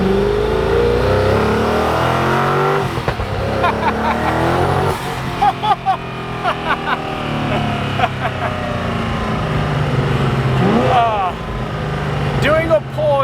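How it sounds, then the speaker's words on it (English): A Koenigsegg supercar pulls hard outside the Burj Al Arab, its engine roaring loudly and climbing in pitch through repeated rising sweeps with brief shift breaks, heard close up from inside or near the car, with voices reacting underneath. "Doing a pull in a Koenigsegg outside the Burj Al Arab"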